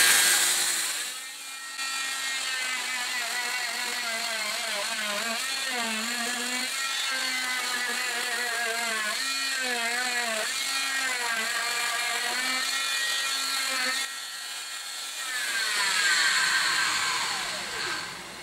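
An oscillating cast saw cuts through a fiberglass post-operative short leg cast with a loud, continuous high-pitched whine whose pitch wavers as the blade bites, close up, with a brief drop in the middle.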